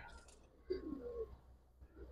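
A female Giribaz pigeon gives a short, soft coo, one low murmuring call rising briefly from a quiet, hissy background, close by and faint.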